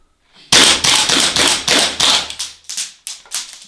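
An airsoft gun fires a rapid burst of about eight sharp, loud cracks right after the bolt is released, followed by a few slower, fading mechanical clacks.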